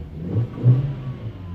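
A BMW E90 320i with a rough idle fault runs close by, its engine idling low then revving up in two swells before settling back to a steady hum.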